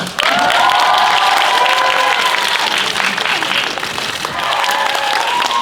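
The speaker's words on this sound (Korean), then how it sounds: "우리 저기 팬들 여러분들 위해서 우리가 박수 한번 쳐드릴까요?" A cinema crowd at a special screening event claps steadily for the fans, with loud, sustained applause and some cheering and voices mixed in.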